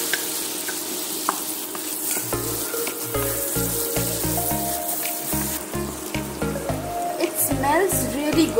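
Chopped garlic hits melting butter in a pan for an au gratin sauce, producing a continuous crackling sizzle with stirring scrapes over rhythmic background music.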